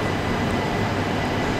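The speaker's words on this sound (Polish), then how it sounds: "teraz poziom minus 2, właśnie wjeżdża pociąg" A train arrives at the underground platform two levels down at Antwerp Central station, with a loud, continuous rumble of rolling wheels filling the enclosed space.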